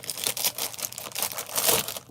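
Plastic packaging holding Barbie stationery is cut open and crinkled, giving close, loud rustling and crackling bursts throughout.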